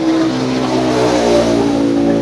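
Steady, loud drone of a Robotech high-pressure jet cleaner machine running continuously, a close, even motor hum with no pauses or talk.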